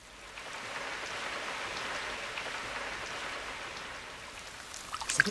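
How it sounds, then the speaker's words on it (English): Rain falls steadily on a garden, a soft even hiss of drops that holds throughout, with a few sharper drips near the end. "I shouldn't grumble about the rain."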